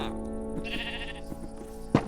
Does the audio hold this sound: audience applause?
no